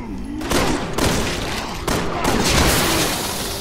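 Loud, near bursts of gunfire in the co-op action game Resident Evil 6, with several sharp blasts cutting in and sustained shooting between them, over a background of game noise.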